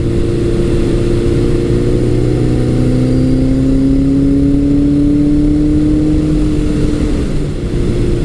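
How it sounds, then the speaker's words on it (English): A 1982 Suzuki GS1100G with an aftermarket Delcovic exhaust runs loud and close, its steady engine drone shifting pitch as it climbs through a gear under load, alone without talk. "With the Delcovic pipe on it, this bike really sounds nice. It's definitely louder than stock, but it sounds like a proper 1100 should."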